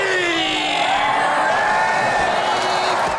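A loud, sustained roar of a stadium crowd cheering and whooping during played-back Liverpool football highlights, dense and continuous before cutting off abruptly.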